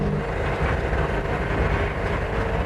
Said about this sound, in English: It's a car that runs on compressed air